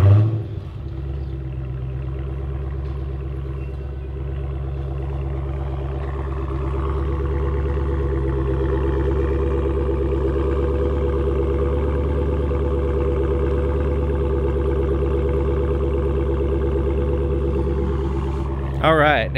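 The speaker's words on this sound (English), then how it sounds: "the Scat Pack really has a nice rumble" A 2016 Dodge Challenger R/T Scat Pack V8 idles with a deep, steady exhaust rumble, swelling slightly partway through and holding a throaty drone throughout.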